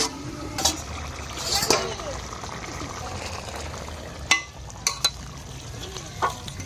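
Fried fish cooks in oil and spices in a pan before being covered, giving a steady low sizzle. Sharp clicks and clinks of a utensil or lid against the pan punctuate it.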